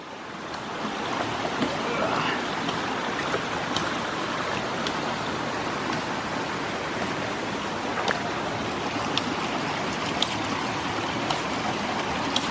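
Flooded creek rushing past a submerged ram pump, a dense, steady roar of flowing water that holds loud and even throughout, with a few faint clicks and no talk.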